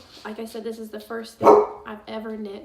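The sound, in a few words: golden retriever dog barking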